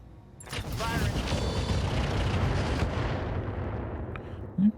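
Mech weapons firing in BattleTech with the RogueTech mod, a sustained heavy rumble of booming artillery-like blasts lasting several seconds before fading, with a voice speaking over it.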